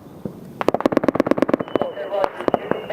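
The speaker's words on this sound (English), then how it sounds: "we're still taking fire" Rapid bursts of gunfire during a 2012 firefight in Afghanistan, a dense run of sharp, loud reports packed close together, then scattered shots, with voices over the radio.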